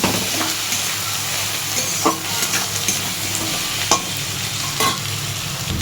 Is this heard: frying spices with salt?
yes